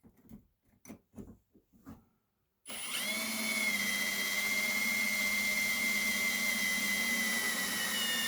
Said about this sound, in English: Just drilling into this metal railing over here.